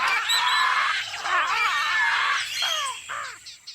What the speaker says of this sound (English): Parrots screeched,